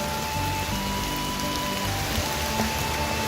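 Rain falling at a lake near dusk: a dense, even patter and hiss that stays steady throughout, close and fairly loud, with no voices.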